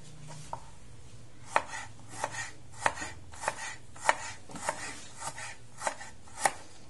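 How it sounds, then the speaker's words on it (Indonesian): A knife slices through shallots on a cutting board, about ten crisp, evenly spaced cuts in a quiet kitchen. "Dari mulai kita ngiris bawang."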